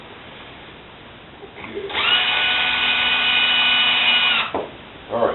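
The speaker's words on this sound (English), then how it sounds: "you can't trust the clutch on the drill to stop" A cordless power drill drives short screws while mounting tires on a Creeper Clone build, with a steady whining run of about two and a half seconds, a brief pause, then another short burst. A voice says a single word.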